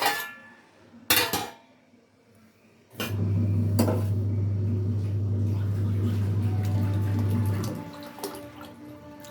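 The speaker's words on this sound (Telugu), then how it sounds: "కాచి చల్లార్చుకున్నాను ఫ్రెండ్స్ పాలు. ఇప్పుడైతే సగ్గుబియ్యంలో పోసేసుకుంటాను." Boiled and cooled milk is poured into a bowl of sago, a steady liquid pour lasting several seconds close by, following a few brief clinks of kitchenware.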